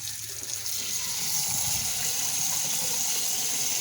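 Water rushes steadily from a repaired faucet, a continuous close hiss and gush that starts almost at once and holds level throughout, with no talk.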